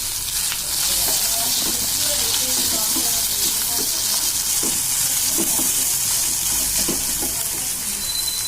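Cooked chicken and sweet corn go into a pan with fried ginger-garlic paste and are stirred, giving a steady, loud sizzle throughout with intermittent scraping taps of the spoon against the pan.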